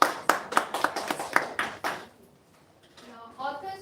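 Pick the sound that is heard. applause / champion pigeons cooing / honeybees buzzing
applause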